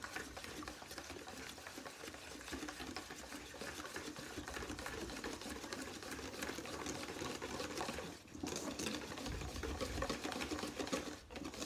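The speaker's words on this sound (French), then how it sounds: "je mets mes 150 g de boursin et mes 20 centilitres de crème liquide à mélanger" Boursin cheese being mixed with liquid cream, a continuous close wet stirring and churning, steady and fairly loud throughout with no talking.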